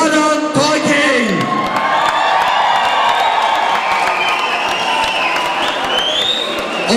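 Party crowd at a Ballermann-style party applauding and cheering after a performance, loud clapping with whoops and shouts over lingering music, while voices call out throughout.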